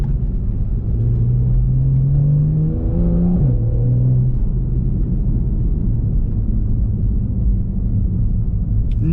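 Porsche 911 Carrera 991.1 engine pulling steadily while driving, its loud continuous drone rising in pitch through a brief rev near the middle, then settling back into a smooth cruising hum from inside the cabin.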